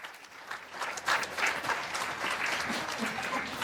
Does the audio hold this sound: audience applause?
yes